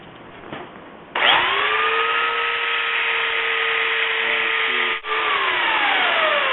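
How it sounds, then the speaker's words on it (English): A belt sander starts up and runs steadily as a chisel's blunt edge is ground down, a loud close whine with a brief dip partway through as the steel is pressed and lifted. "in order to sharpen the chisel, I'm going to take this blunt edge off on the belt sander"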